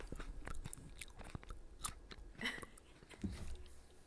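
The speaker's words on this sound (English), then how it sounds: "I'm no good at ASMR chewing." Close-up ASMR chewing of blueberries with crisp bites and wet crunches, irregular and close to the mic, against a quiet background.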